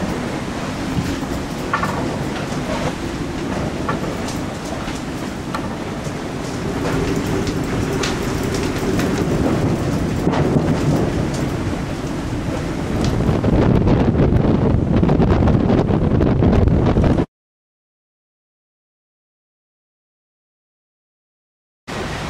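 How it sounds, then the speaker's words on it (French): Strong wind roars and buffets the microphone in a steady rushing noise, growing rougher before cutting to silence. "le vent est au rendez-vous"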